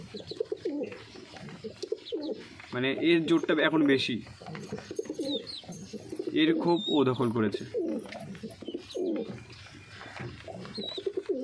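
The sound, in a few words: pigeons cooing in their coop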